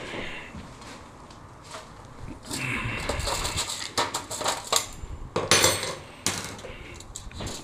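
Pieces of paneer tikka are set onto a foil-lined baking tray in a kitchen, with a rising clatter of metal taps, crinkles and knocks that becomes busier and louder partway through, close by.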